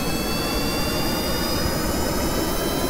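VTOL jet engine at full throttle in Kerbal Space Program, a loud, steady roaring rush with a faint high whine running through it, continuous and close.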